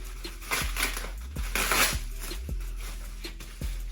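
Packing peanuts from a box of BC coilovers for an Infiniti G37 rustle and crunch in several close bursts of handling, loud and crisp, with no talking.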